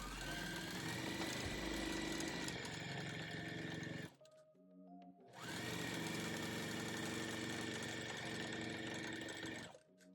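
A sewing machine chain-stitches fabric pieces in two long steady runs of fast rhythmic whirring, separated by a brief pause of quieter mechanical clicks, close and alone.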